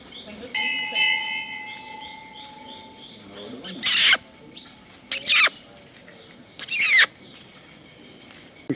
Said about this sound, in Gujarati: ચકલાનો એટલો સ્વીટ સાઉન્ડ